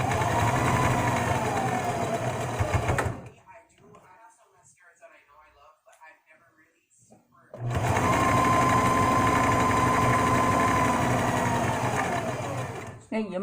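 Sewing machine running steadily in two long bursts of rapid, even stitching on fabric, close and loud, separated by a quieter pause with faint handling sounds; a person speaks at times over the motor.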